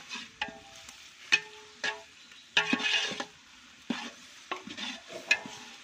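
Garlic paste for biryani cooks in a pan, with sharp metallic stirring knocks and scrapes in an irregular rhythm over a quiet, light sizzle.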